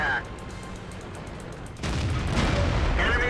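Tank cannon fire in World of Tanks: a heavy blast breaks in midway and leaves a loud, rumbling wash of battle noise, with excited talk going on throughout.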